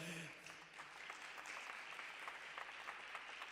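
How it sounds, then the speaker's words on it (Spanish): A church congregation applauds during a Spanish-language Thursday sermon, producing a continuous, fairly faint wash of clapping that stays even throughout, with a faint voice near the start. "Damos un aplauso al Señor."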